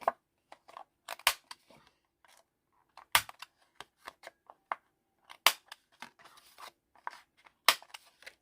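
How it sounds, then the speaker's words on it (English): A corner rounder punch trims the corners of a handmade card with a series of crisp, close snips and clicks, scattered irregularly with small rustles of paper in between. "I think with this one, I might do some corner rounding"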